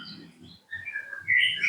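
Short, clear whistled phrases of a white-rumped shama singing nearby, rising and falling notes in a brief burst with low background noise.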